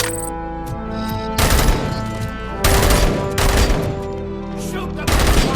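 Gunfire in RoboCop: Rogue City: loud, dense bursts of shots erupt in several volleys, each a few seconds apart, over a steady synth music bed.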